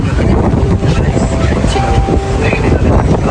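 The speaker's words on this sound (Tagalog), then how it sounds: "grabe, lakas ng hangin" Loud, constant wind roar near the sea buffeting the microphone, with a low rumble throughout and no break.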